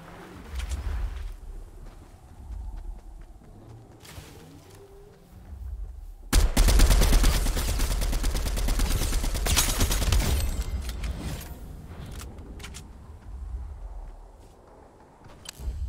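Video game gunfire erupts in a sudden loud, dense burst of rapid shots lasting several seconds, preceded and followed by scattered single shots and quieter ambient movement.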